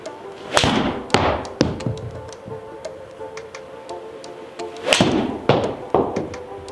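Golf balls struck with Honma TW747 irons from 2019: several sharp, loud impacts spaced about a second apart, each followed by a fading whoosh, ringing over a steady background hum.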